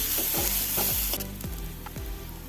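Chopped onions frying in sunflower oil in a pan, a loud bright sizzle at first that settles, with repeated rhythmic scraping strokes of a spatula stirring through the pan.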